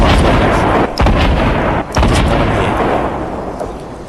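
Fortnite Battle Royale gunfire, heavy booming shots loud and close, dense and continuous with brief dips near the one- and two-second marks, then fading slightly toward the end, with no voices.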